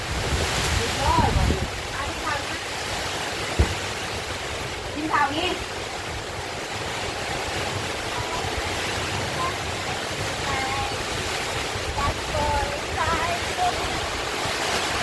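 A storm with heavy rain and strong wind roars as a constant, dense wash of noise close to the microphone, with gusts buffeting it, while a voice talks faintly underneath.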